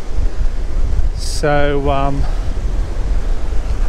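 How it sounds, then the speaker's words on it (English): Strong wind at a dog-friendly beach near Sydney roars steadily as loud, broadband buffeting on the microphone throughout, with someone briefly speaking over it. "So it's quite windy."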